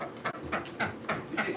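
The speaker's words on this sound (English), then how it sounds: "Dog." A dog panting close to the microphone, about five quick, rhythmic breaths in a steady pattern, heard alone without talk.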